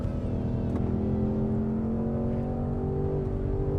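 A 2024 Ford Mustang Dark Horse with its 5.0 V8 roars steadily on a racetrack, the engine note held loud and close under load throughout, with no talk over it.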